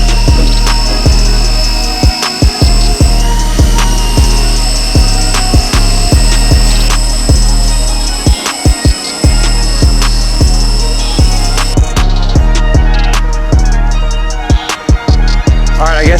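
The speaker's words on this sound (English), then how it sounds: "Hopefully this pressure washer's got enough to blast whatever's left out of there." A pressure washer blasts inside a gas tank being restored: a loud, continuous, harsh spray roar with rapid rattling pulses and a few brief dips, close and alone.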